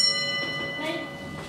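A railway signal box bell at Banbury North gives a single ringing strike whose tone lingers and fades, with a faint voice underneath.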